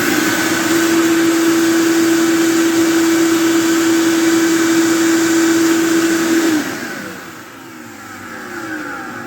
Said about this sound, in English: This thing is a serious vacuum cleaner.